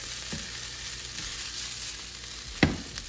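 Chopped basil tossed with ingredients in a hot pan alongside seared salmon, a constant close sizzle with one sharp clatter of the pan near the end.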